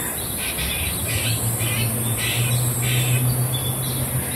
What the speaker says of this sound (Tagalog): Yung paborito ko talaga yung mga hahuni ng mga ibon.